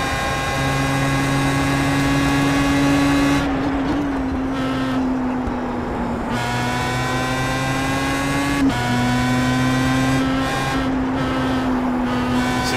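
Pro Mazda open-wheel race car lapping the Okayama circuit, its engine droning loud and steady throughout with rising and falling pitch through throttle changes and gear shifts, no talk.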